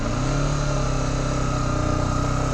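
Motorcycle in first gear, revs raised as the clutch slowly releases and it begins to roll, a close, loud, steady engine drone with rapid firing pulses and no talk.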